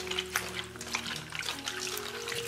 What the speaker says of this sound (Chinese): 将青菜清洗一下